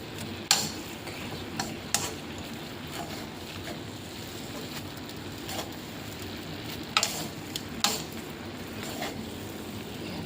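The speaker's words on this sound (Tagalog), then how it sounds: "Gumamit kayo ng dalawang chopsticks para mas easy nyong i-mix ng mabuti." Two chopsticks stir and toss fried meehon noodles with vegetables, chives and black pepper in a pan, giving a soft, continuous sizzle with a few sharp clicks and scrapes as the sticks knock together and against the pan.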